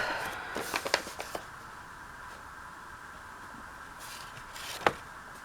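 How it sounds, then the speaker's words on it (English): Old playing cards being handled and shuffled, a short burst of crisp flicks and riffles near the start, then a quiet stretch before one sharp snap near the end. "So using up playing cards."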